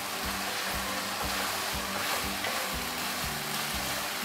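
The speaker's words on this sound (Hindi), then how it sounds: "चलें इसको भून लेते हैं थोड़ी देर।" Green beans fry in ghee in a pan with a steady, full sizzle. Soft, regular stirring thumps break through it, with no voices.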